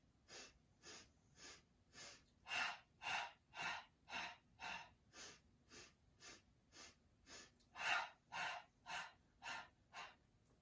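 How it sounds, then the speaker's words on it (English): Series of short, sharp sniffing breaths in through the nose, around twenty quick inhalations in a steady rhythm with a few stronger ones, close and alone during a Pilates hundreds breathing exercise. "now we're going to sniff for 5."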